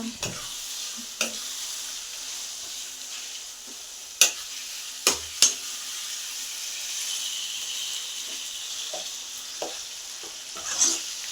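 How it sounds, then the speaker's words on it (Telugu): Mango pickle (thokku) mixture frying gently on a low flame, a steady soft sizzle and hiss running throughout with a few sharp clicks and scrapes of a spoon stirring the pan; no voices. "దీన్ని ఇప్పుడు సిమ్లోనే పెట్టుకొని సిమ్లో పెట్టుకొని వేయించితే బాగుంటుంది"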